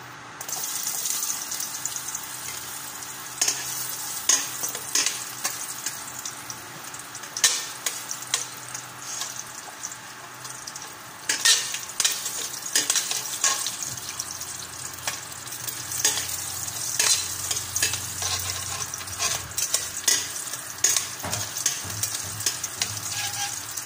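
Ginger sizzles steadily in a hot pan at the start of cooking chicken tinola, with a constant bright frying hiss broken by frequent clattering stirs and scrapes of a utensil, close and continuous throughout.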